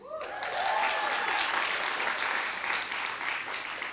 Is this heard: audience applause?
yes